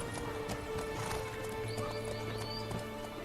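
Galloping horse hooves during a race in The Witcher 3, a rapid steady clip-clop under a continuous layer of game ambience and music, with a brief whinny.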